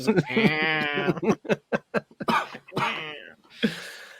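A harsh, voiced coughing and hacking sequence, repeated bursts close by, with bleating-like strained tones between sharp short coughs.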